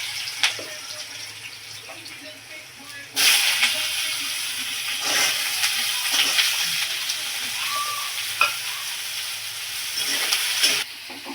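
Sun-dried lentil dumplings (bori) fry in oil in a home kitchen, giving a steady hiss and sizzle that swells as the bori are added and goes on throughout, close up with no talk.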